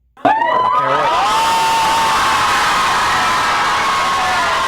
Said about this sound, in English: Some cheer.